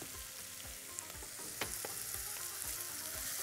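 Caramelized onions and chicken sauté in a pan with a steady, close sizzle, broken by repeated scraping stirs.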